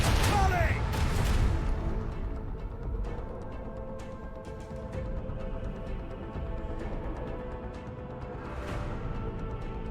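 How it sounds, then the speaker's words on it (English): A cannon volley in the video game Warhammer 40,000: Rogue Trader, a heavy booming blast at the start followed by scattered distant impacts and rumbling, with voices talking over the battle. "Cannons, volley!"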